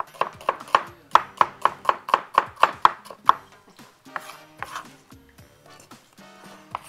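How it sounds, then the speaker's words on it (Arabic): Knife slicing onion into rings on a board, a quick regular series of about a dozen crisp, close chops, followed by slower, softer scattered cuts. "أجيب البصل بتاعنا، هبدأ أقطعه عندي شرايح"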